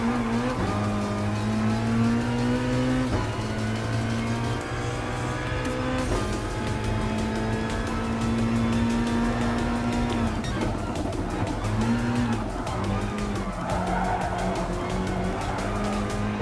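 Race car engines droning in Gran Turismo Sport, with a GTE Pro car and a BMW M6 on track, loud sustained engine tones that rise and shift in pitch as cars pass and shift gears, continuous throughout.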